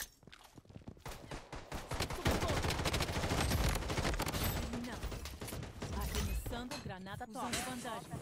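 Rapid gunfire exchange in the shooter game Blood Strike, bursts of shots crackling densely and steadily over a few seconds, with a voice talking over the shooting.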